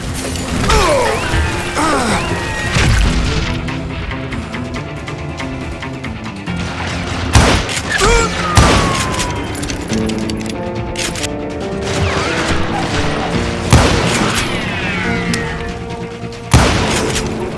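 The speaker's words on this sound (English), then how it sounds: "Henry Plummer throw dynamite at me" Dynamite explosions in the video game Call of Juarez: Gunslinger: loud booms and crashes come in repeated bursts over a steady backdrop of game music and effects.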